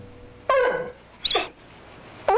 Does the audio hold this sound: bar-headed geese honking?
no